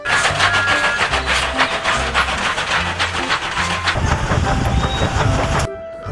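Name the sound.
toy Thomas the Tank Engine train running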